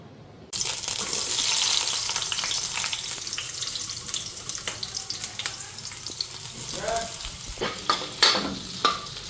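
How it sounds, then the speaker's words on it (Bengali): Onion fries lightly in a pan for a potato curry, a bright sizzle starting abruptly and then settling, with scattered utensil clinks and stirring knocks growing louder near the end, close and without talk. "এখানে পেঁয়াজটা হালকা ভাজা নিতেছি"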